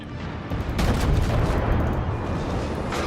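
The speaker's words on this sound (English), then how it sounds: "See the secondaries peppering away." Warship secondary guns firing in the World of Warships video game, a dense rumbling barrage of overlapping booms rolling continuously for a few seconds.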